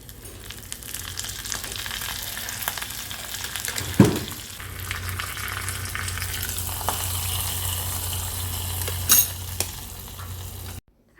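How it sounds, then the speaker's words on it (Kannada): Cumin, mustard seeds and curry leaves frying in hot oil as a tempering for a quick sambar, a steady close sizzle running throughout with a brief stir-like clatter near the middle and another toward the end, no talking. "ಎಣ್ಣೆಗೆ ಸ್ವಲ್ಪ ಹಿಂಗೆ ಹಾಕಿ, ಅರ್ಧ ಟೀ ಸ್ಪೂನ್ ಜೀರಿಗೆ, 1/4 ಟೀ ಸ್ಪೂನ್ ಸಾಸಿವೆ ಹಾಕಿ, ಕರಿಬೇವಿನ ಎಸಳುಗಳನ್ನು ಹಾಕಿ ಫ್ರೈ ಮಾಡಿಬಿಟ್ರೆ ಆಯಿತು"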